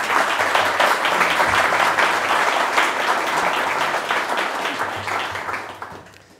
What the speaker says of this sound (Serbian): zamolit ću vas da jednim aplauzom pozdravite naše gosta.